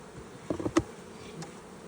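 Honey bees hum around hive frames during a nuc split, a steady low drone with a few brief louder passes of individual bees close by.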